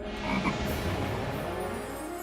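Frog croaking in a children's comedy show, a loud, close, rough croak that rises then fades into a steady low rumble.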